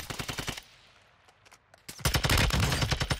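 Rapid automatic gunfire in the video game Warzone 2, from a TAQ 56 rifle: a dense burst of shots at the start, a short lull, then a louder sustained stream of fire up close.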